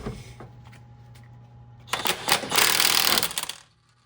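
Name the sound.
DeWalt impact wrench removing Honda Civic crank pulley bolt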